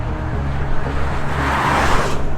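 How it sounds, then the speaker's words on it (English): An electric hypercar on a race track pulls hard under power, its motors giving a loud, steady, close drone with a low tonal hum and a rising broadband rush throughout. "This is authentically the way that the motors sound under power"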